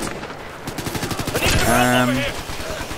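Ghost Recon: Future Soldier online gameplay gunfire, with rapid automatic bursts crackling in quick succession, loud and close, then a ringing burst in the middle and trailing shots afterwards.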